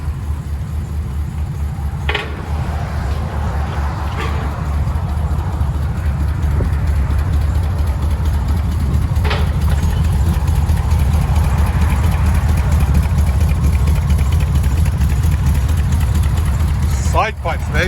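A 1984 G10 van with true dual exhaust, long tube headers and straight side pipes rumbles at a steady, loud, deep idle close by, with a few faint voices briefly over it and a brief rev near the end.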